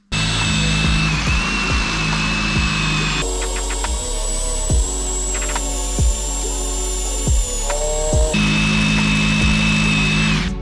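A high-speed angle grinder whines loudly and continuously, its pitch shifting as it cuts through a motorcycle or bicycle anti-theft lock, with no talking.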